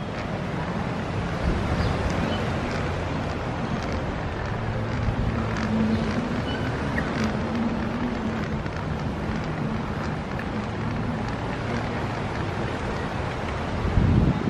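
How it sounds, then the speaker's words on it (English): A steady breeze blows across a Hawaii beach near a courtyard by the ocean, a continuous broadband rush with surf-like wash for the whole span and a gust swelling at the very end. "There's more of a breeze here than there was at the other beach."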